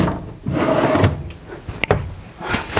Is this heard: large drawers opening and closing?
yes